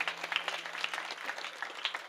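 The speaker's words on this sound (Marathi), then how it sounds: "एकदा तुमच्यासाठी तुम्ही जोरदार टाळ्या वाजवा" An audience at a humorous Marathi kirtan by Amol Maharaj Ghuge claps together, a dense, steady patter of many hands at moderate volume with no talking.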